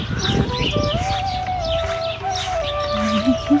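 Several birds chirp and call near a village in Agrinio, Greece, with repeated short tweets and a few longer whistled notes over steady outdoor background noise.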